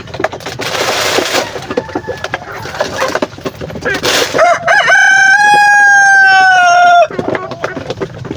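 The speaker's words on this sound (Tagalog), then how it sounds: "Pakita ko sa inyo gaano kasaya, gaano kaganda mag-alaga ng mga manok." A Philippine native rooster crows loudly and close, one long drawn-out call, after a stretch of clucking and farmyard bustle with a person talking nearby.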